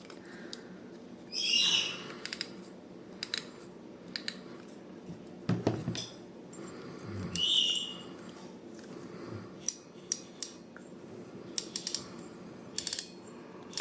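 Ajiking Wahoo spinning fishing reel with T-bar handle, its drag clicking in scattered short ratcheting bursts, near and fairly quiet, with handling noise between.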